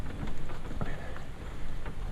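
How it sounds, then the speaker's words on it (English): Water drops shed from trees patter onto a canoe in the woods after rain, scattered soft taps over a steady wet hiss, close and fairly quiet. "we still got water drops falling on the canoe from the trees"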